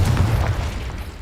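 A short, heavy boom from a Confringo spell explosion in Hogwarts Legacy, loud and close, with a deep rumbling body that holds briefly before easing off.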